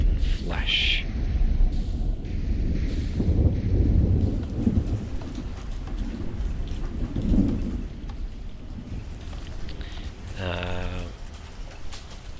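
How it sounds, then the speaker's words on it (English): A Minecraft thunderstorm in a modded game world: a steady hiss of rain with rolling thunder rumbling underneath and a brief sharp rising electronic tone late on. "And there's a dramatic thunderstorm, apparently."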